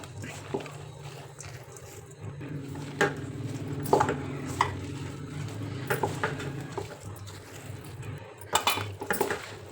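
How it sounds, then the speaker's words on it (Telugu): Aloo pakora batter with cornflour, coriander and curry leaves mixed in a bowl, producing soft squelching and scraping strokes with occasional clinks of a utensil against the bowl over a low background hum. "ఇప్పుడు ఇవన్నీ వేసుకొని మంచిగా కలుపుకోవాలి"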